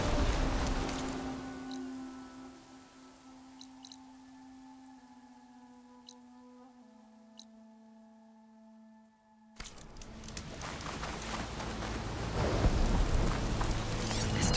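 Thunderstorm rain in Horizon Forbidden West, a steady wash of rainfall with low rumbling, fading to a quiet stretch with faint tones, then returning loud and dense near the end.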